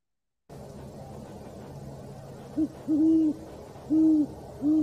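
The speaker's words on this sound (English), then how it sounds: "it's the owls who also call at night" Low owl hoots, four short calls in an irregular pattern against a quiet outdoor night background, fairly soft and distant.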